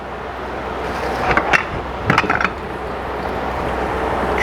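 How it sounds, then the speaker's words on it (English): A Chrysler automatic transmission (A-727/A518 family) on a teardown bench as the intermediate shaft is pulled free, giving a couple of brief metallic clanks and rattles over a steady background hiss, with no talking. "And now you can remove the intermediate shaft."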